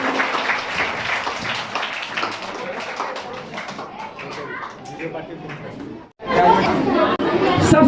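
A crowd at a 15 August Independence Day gathering murmurs and claps sporadically, then bursts into loud, sustained applause that fills the space.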